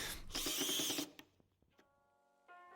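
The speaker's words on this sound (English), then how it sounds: "I'll just use an ordinary power tool" An ordinary power tool, likely a drill, runs in a loud whirring burst for about a second while working on a coat rack under a mailbox, then falls quiet before a short, softer mechanical hum returns near the end.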